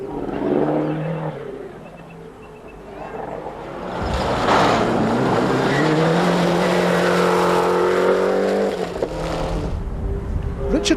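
A Mitsubishi Charisma rally car on a 1997 rally stage, engine note rising and holding loud as it accelerates past close by, with tire noise and a voice talking over it.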